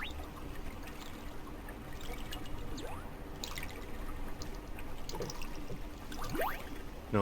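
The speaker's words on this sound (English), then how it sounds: "just the sound of our eerie splashing." Water splashes and trickles at a bathhouse in the farming game Fields of Mistria during a stormy scene, with soft intermittent sloshes and drips and a few louder splashes near the end.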